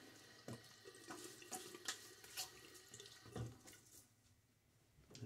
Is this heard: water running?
yes